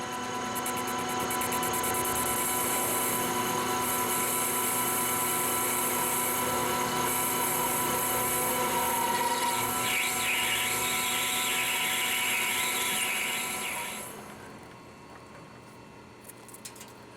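A drill boring a hole in a kegerator beer tap handle, a steady loud whining drone with strong harmonics that holds for about fourteen seconds, then winds down and stops.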